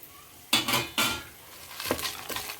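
Dried red chillies frying in a pan for a coriander chutney, with a ladle scraping and clattering in four distinct bursts over a soft background sizzle.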